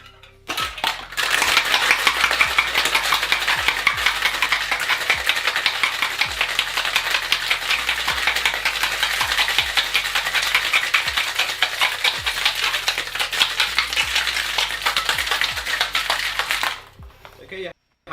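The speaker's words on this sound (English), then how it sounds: "put your lid on. Give it a good hard shake" Cocktail shaker shaken hard with its lid on, a dense continuous rattle of ice for around fifteen seconds, loud and steady, then stopping abruptly, with faint low voices underneath.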